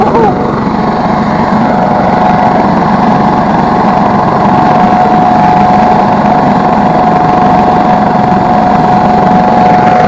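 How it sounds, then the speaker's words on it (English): A helicopter flying close overhead at a retro kart race in Rowrah, a loud, steady rotor and engine roar filling the whole stretch. "Don't think I've ever been this close to an helicopter before like that."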